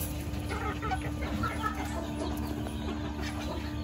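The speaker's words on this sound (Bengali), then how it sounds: "এখানে এক পেয়ার গোল্ডেন লেস ওয়াইন্ডট আছে, এটা 6 মাসের মতো বয়স।" Golden Laced Wyandotte chickens, about six months old, cluck softly and repeatedly over a constant background hum in a poultry keeping area.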